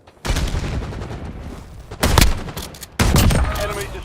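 Grenade explosions in Warzone Resurgence mode, with gunfire around them: three sudden, loud blasts hit in turn, each trailing into rumbling, crackling noise. They sound close and heavy.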